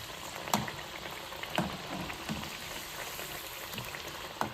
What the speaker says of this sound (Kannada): ಇವಾಗ ಇದನ್ನು ನೀವು ಗೋಲ್ಡನ್ ಬ್ರೌನ್ ಆಗೋವರೆಗೂ ಫ್ರೈ ಮಾಡ್ಕೊಳ್ಬೇಕು